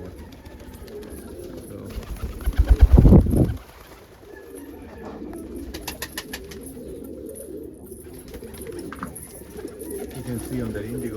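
Pigeons cooing in a loft, low throaty coos and rustling around someone talking, with a loud burst of flapping or scuffling near the start before settling back to steady cooing.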